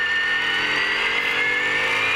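BMW M3 Coupe race car driven by Brett Batterby at a motorsport meeting, a loud steady engine drone with strong high harmonics held close for about two seconds, no voices.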